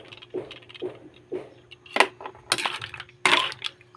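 An empty mussel shell drops and clatters in a kitchen while mussel soup with chili leaves simmers, giving a few sharp clicks and rattles against a soft background murmur.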